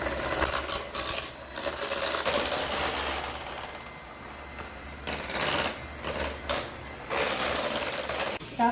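An electric hand mixer whirs on high, beating cooked potatoes with milk into mashed potatoes; the motor drone is steady and fairly close, with rattling and scraping of the beaters against the pan and brief dips in level.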